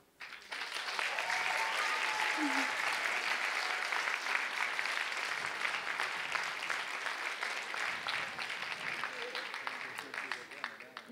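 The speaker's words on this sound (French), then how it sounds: "On peut applaudir." Sustained audience applause at a college talent show final, dense clapping that swells quickly and holds steady for several seconds, with faint voices in the crowd.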